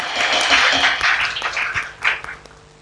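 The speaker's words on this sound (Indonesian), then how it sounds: "Berikan tepuk tangan terbaik untuk Tuhan kita." Church congregation applauding during a Pentecost worship service in Batam, a dense wash of clapping that swells and fades over a few seconds, with voices faintly underneath.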